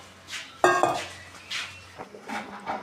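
Potatoes drop into a cooking pot of sea-fish curry with onion and tomato, giving a sharp metallic clank followed by softer scrapes and stirring knocks of a utensil against the pot, close by.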